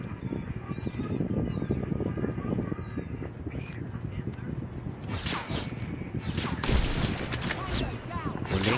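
Gunfire in the mobile video game Call of Duty Mobile, rapid bursts of shots and sharp cracks that grow denser and louder toward the end, with a voice talking over the action.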